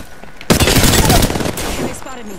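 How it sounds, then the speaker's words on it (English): Rapid gunfire from a video game shooter erupts suddenly and stays loud and dense for about a second, then continues at a lower, steady level with bursts layered over the game mix. "They spotted me. I'm taking shots."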